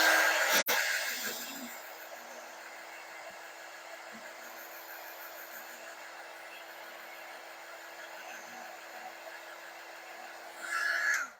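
A hair dryer blows steadily for several seconds while drying a fabric quilt star block, a constant close whir that starts and ends with brief louder bursts.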